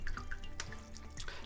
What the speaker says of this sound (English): So you can see that if you squish it, it'll drip out.